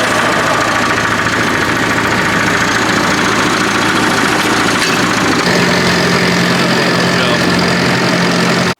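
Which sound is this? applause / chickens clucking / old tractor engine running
old tractor engine running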